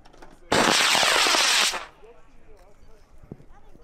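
A high power rocket motor ignites and roars at a Red Glare MDRA launch, a loud crackling burst for about a second before fading away, with people talking afterward.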